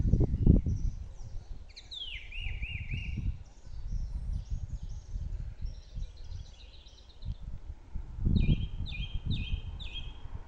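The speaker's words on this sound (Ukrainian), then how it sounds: "Чуєте, як виспівує соловей?" Varied, warbling phrases of nightingale song, trills and repeated notes, ring out clearly over low rustling and handling noise, with pauses between bursts.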